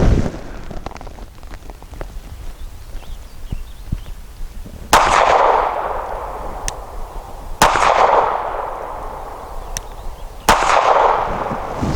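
Sig P365 pistol firing Remington Golden Saber 147 grain rounds outdoors, three loud sharp shots spaced a few seconds apart, each followed by a rolling echo, with faint clatter and handling noise in between.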